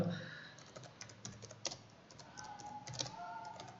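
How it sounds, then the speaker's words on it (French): Fingers tap quick, irregular keystrokes on a computer keyboard while a search query is entered, close and fairly quiet. Short clusters of clicks come with small pauses between them, and no one speaks. "Alors sur Google, vous allez taper Earth Wind Map."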